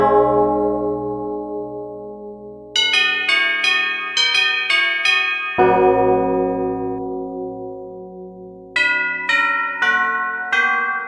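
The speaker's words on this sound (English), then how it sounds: "What a fantastic sounding bell. It sounds like doom is impending." Deep, ominous tolling bell in the Incredibox music game's Deadline boss-fight mix, struck repeatedly in a steady rhythm with long ringing decays, layered over sustained synth tones and a high plucked melody.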